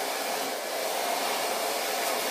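Hair dryer blowing a steady, even rush of air while hair is brushed, continuous and close with no talk.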